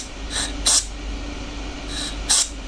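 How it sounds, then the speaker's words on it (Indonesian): Cleaner sprayed onto a very dirty motorcycle part, two pairs of short hissing bursts close to the mic, each pair a lighter puff followed by a stronger spray, over a low steady hum. "Kita semprot nih, lihat ya"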